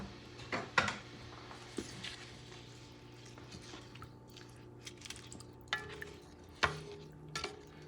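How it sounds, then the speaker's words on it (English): Chopped cilantro and recao being mixed together in a bowl, giving soft scraping and stirring rustles with a few sharper knocks of the utensil, quiet and close. "You're going to mix them."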